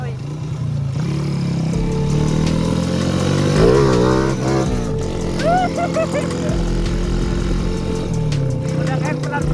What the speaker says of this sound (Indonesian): asli kayak motornya enak banget coy